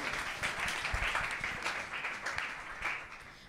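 Church congregation clapping in praise during a Sunday prayer service, a dense sustained patter of many hands through the whole stretch, moderately near and steady with no talk over it.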